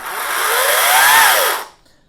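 A Metabo MS 36-18 LTX BL cordless battery chainsaw revs in one smooth, close, high electric whine. It rises and falls over about a second and a half, then stops abruptly with no other sound.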